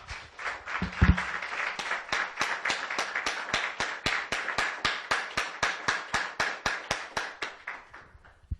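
Church congregation clapping in a steady, rhythmic unison beat to praise God, loud and close, about two claps per second, with a brief voice near the start.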